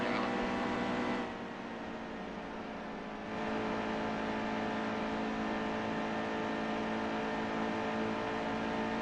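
Racing trucks in the NASCAR Heat 2 video game drone with a steady, layered engine hum around the oval. The sound dips briefly, then resumes at a constant, moderately distant level.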